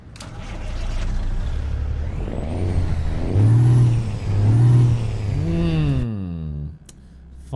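A Cummins N14 diesel engine in a truck in American Truck Simulator cranks and fires up, settling into a loud rumbling idle with a couple of revving swells and a rising whine before it cuts off abruptly.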